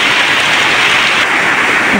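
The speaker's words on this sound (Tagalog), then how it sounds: "Sige pa rin ang ulan" Steady heavy typhoon rain pours down continuously, a dense wash of hiss with no break, loud and close.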